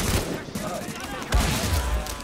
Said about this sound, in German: Ich schmeiß eine Granate.